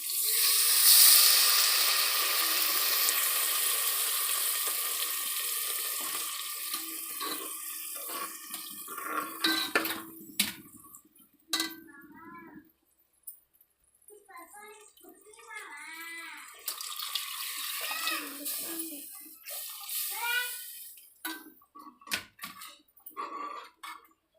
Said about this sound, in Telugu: 1కి 2 కప్పుల వాటర్ వేసుకోవాలి ఫ్రెండ్స్